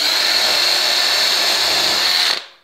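Power drill boring into wood while building a wardrobe, a loud, steady high-pitched whine close by that holds for over two seconds and then spins down.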